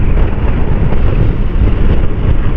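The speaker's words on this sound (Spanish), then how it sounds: "Se nota mucho el viento en la moto." Strong wind buffeting a rider on a moving motorcycle, a loud, continuous broadband roar of air rushing past the helmet and microphone with no letup.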